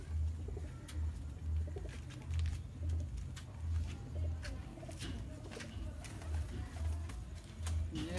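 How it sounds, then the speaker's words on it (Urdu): Teddy pigeons coo in low, repeated rounded pulses at a steady rhythm, with faint clicks and rustles around them and no talking. "یہ میرا ٹیڈی کبوتر ہے"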